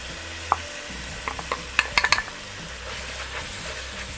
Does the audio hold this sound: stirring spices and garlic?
yes